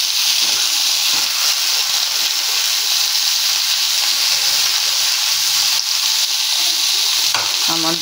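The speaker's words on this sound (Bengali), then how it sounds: "ঝিঙে আলু পোস্ত হচ্ছে।" Ridge gourd and potato posto frying and being stirred in a pan, a steady close sizzle and hiss broken by scraping stir strokes, with a sharper clatter near the end and no talking.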